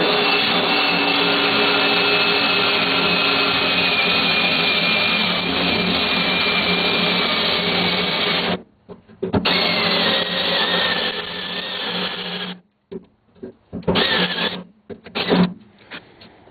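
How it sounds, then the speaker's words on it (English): A cordless drill bores out spot welds on the door of a 1955-59 Chevy truck, whining loudly and steadily for about eight seconds, then cutting out and restarting in several shorter, uneven bursts. "So now I'm going to drill out the rest of them."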